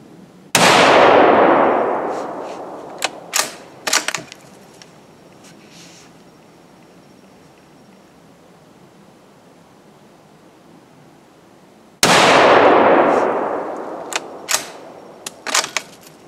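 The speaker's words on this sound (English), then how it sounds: "This is not going to be my most impressive shooting today." Two loud rifle shots from a bolt-action rifle firing at targets ring out about eleven seconds apart, each a sharp crack with a long fading echo, followed by metallic clicks of the bolt being worked.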